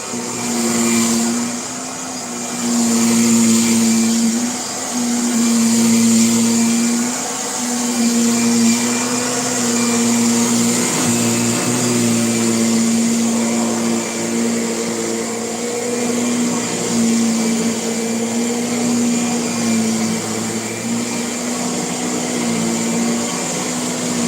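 A Hoover Air upright vacuum cleaner runs steadily and close by, with a constant motor whine and airflow hiss that swells and dips slightly as the machine is pushed back and forth.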